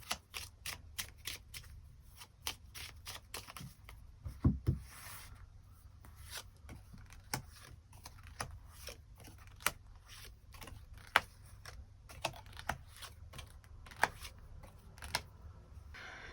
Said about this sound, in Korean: 그럼 1번 분들 추가 카드로 일별로 월요일부터 일요일까지 어떤 하루하루를 보내게 될지 추가 카드 뽑아보도록 하겠습니다